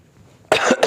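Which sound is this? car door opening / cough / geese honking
cough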